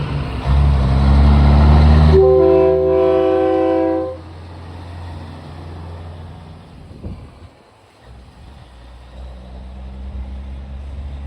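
A set of newly mounted train horns on a truck gives one loud, sustained chord blast lasting about two seconds, then cuts off, leaving a low idling rumble.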